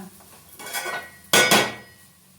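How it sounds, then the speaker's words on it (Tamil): A spoon scrapes and clanks against a metal cooking pot while kathambam rice is stirred, a few soft scrapes followed by louder rattling clatter and a final knock. "இந்த மாதிரி அப்பப்போ ஓப்பன் பண்ணி கிண்டிக்கணும், இல்லைன்னா வந்து கருகி போயிடும்"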